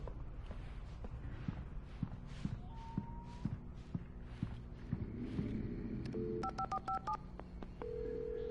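A gas station phone in Alan Wake Remastered is dialed, with footsteps walking up first and then a quick run of distinct touch-tone beeps, followed by a steady ringing tone.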